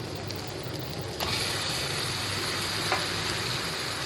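Chicken goes into a pan of sizzling masala with chili powder for a curry, raising a dense, close frying hiss that jumps louder partway through and then holds steady with faint clinks.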